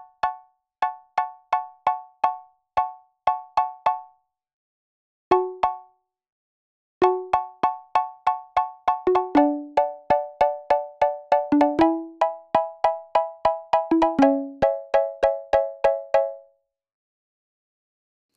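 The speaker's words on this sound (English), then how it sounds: "And I will set more to the square wave here." A square-wave synthesizer plays a plucky melody in short, bell-like staccato notes with gaps between phrases, clear and dry against silence.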